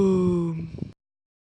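A deep, drawn-out yawn from a voice imitating a queen during a children's Christmas yoga session, loud and voiced at first, then tapering into breathy sighing before cutting to silence.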